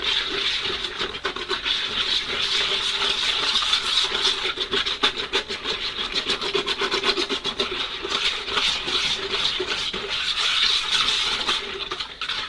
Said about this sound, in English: Alright, now I need a whisk.